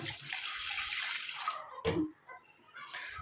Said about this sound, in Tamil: இப்போ இதில் நம்ம தேவையான அளவு தண்ணி ஊற்றிக்கலாம்.